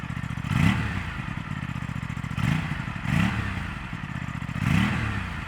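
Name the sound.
parallel-twin motorcycle engine revving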